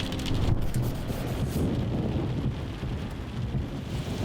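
Steady heavy rain pours outdoors in Lleida with a continuous hiss of drops on surfaces and a deep low rumble of thunder running underneath, loud and unbroken throughout, without voices.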